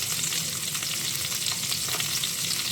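Breaded pork loin chops sizzle and crackle in a frying pan, a steady, dense hiss of hot oil running unbroken throughout with no talking.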